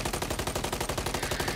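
Rapid automatic gunfire in the video game Modern Warfare 3, a loud, close, evenly spaced burst of shots rattling without a break.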